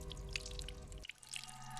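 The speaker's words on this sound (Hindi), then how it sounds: "बाथरूम में पानी बहने की आवाज आ रही है।" Water runs in a bathroom as a steady hiss. Faint, distant drips and splashes sound over a low background hum that cuts off partway through.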